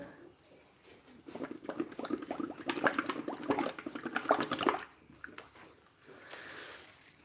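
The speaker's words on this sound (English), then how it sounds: "So we've got a straw in the cup, enough room for it to billow out, and we're going to create bubbles." Bubbles blown through a straw into a cup of soapy water, a close wet gurgling burble that swells and runs a few seconds, then stops in quiet.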